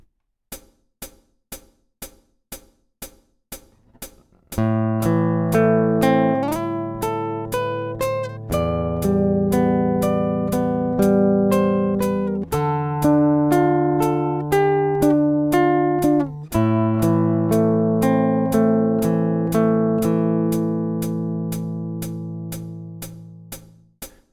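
Guitar plays a passage of a song: a few light, evenly spaced clicks, then sustained chords and melody notes ringing steadily for about twenty seconds, clear and close with no talking.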